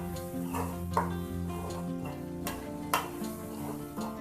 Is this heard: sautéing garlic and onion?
yes